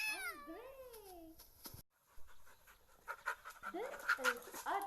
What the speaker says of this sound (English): Cats are of different colors like black, white, orange and grey.